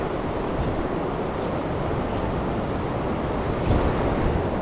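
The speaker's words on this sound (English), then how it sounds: "That wind's getting up again." Strong wind at a salmon fishing spot in January buffets steadily as a dense, continuous roar with no letup, swelling slightly near the end, and nobody speaks.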